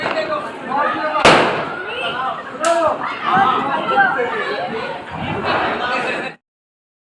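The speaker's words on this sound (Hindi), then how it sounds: "पटाखे छुटाने किए स्टार्ट" Firecrackers go off during Diwali celebrations outdoors, giving two sharp, loud cracks a second or so apart. Voices chatter and call out throughout, and the sound cuts off abruptly near the end.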